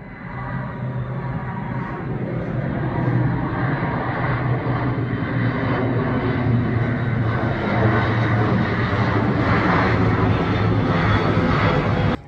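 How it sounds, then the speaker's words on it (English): An airplane passes overhead above an allotment garden, a continuous broad engine roar that stays loud and steady for over twelve seconds with no voices. "Here comes another plane."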